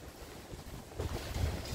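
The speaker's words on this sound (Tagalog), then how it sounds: "Kaya lang, ang lakas ng hangin dito." Steady strong wind rushing across the microphone during a rainstorm, with low buffeting gusts that grow stronger in the second half.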